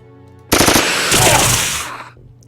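Rapid automatic reaction gunfire from Xenonauts X-Division, a loud burst of many closely spaced shots lasting about a second and a half before trailing off, with no talking.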